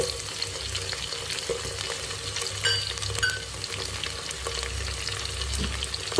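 Tomatoes are stirred into a pan of frying whole spices (cardamom, pepper, cinnamon and cloves) for chicken biryani, producing a steady close sizzle with frequent scraping stir strokes and occasional louder clinks, without speech.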